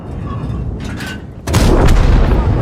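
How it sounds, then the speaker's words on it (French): A tank cannon fires in the video game World of Tanks, a sudden heavy boom that cuts in partway through over low battlefield rumble, preceded by fainter distant thuds. "Merci au S800 qui va tirer dessus. Tire."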